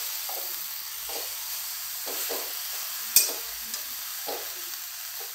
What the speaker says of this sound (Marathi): आता भाजी कढईमध्ये टाकली आहे, तिला चांगलं परतून घेणार